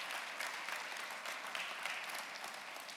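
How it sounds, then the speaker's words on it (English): Delegates at a conference closing ceremony applaud the venue staff, a steady, even roar of many hands clapping in a large hall, moderately loud and free of talk throughout. "So I'd like a round of applause,"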